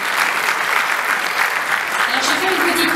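Event audience clapping to encourage the honored festival organizers, a steady, dense round of applause held at full strength throughout, with a low voice murmuring beneath it near the end.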